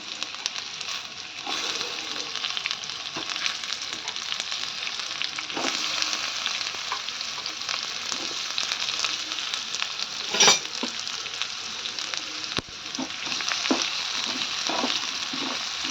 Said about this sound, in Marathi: आता पॅनमध्ये थोडंसं तेल घातले त्यामध्ये हा कांदा आपल्याला भाजून घ्यायचा आहे